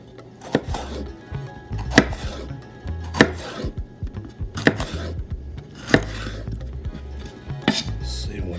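A knife chops through a bell pepper on a cutting board with a rainbow-style cut, six sharp thuds spaced a second or so apart, close and crisp against soft scraping.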